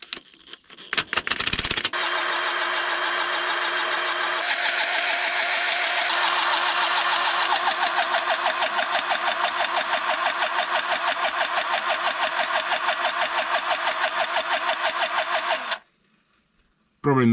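Soviet T-170 bulldozer diesel engine starting with a few rough turns, then running steadily and loud for about fourteen seconds with an even, slightly knocking throb before cutting off abruptly.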